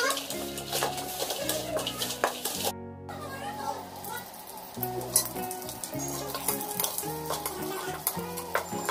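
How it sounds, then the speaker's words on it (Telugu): Vermicelli fries in ghee in a pot with a steady sizzle, while a spoon stirs and scrapes against the pan. Dishes clink and a voice is heard, with a low hum running underneath. "ఘీలో ఫ్రై చేసి ఈ సేమియాలు అనేది వేసేసుకుంటాము"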